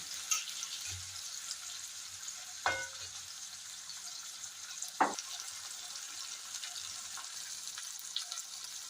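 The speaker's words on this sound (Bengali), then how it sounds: "এবার পেঁয়াজটাকে লাল করে আমি ভেজে নেব।" Onions fry gently in oil in a pan with tomato and a little sugar, giving a faint, steady sizzle broken by a few scraping stirs of a utensil.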